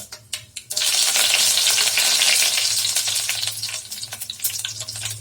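Chana dal and curry leaves hit hot oil with a loud, bright sizzle that swells after a few brief clicks and stays steady, crackling and spitting as it slowly softens, with no voices.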